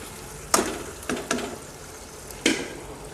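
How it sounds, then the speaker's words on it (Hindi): Mutton karahi sizzles steadily in the pan while a utensil stirs it, with four sharp scraping clatters standing out over the continuous frying hiss. "साथ साथ भूनते जाएं और साथ साथ मिक्स करते जाएं"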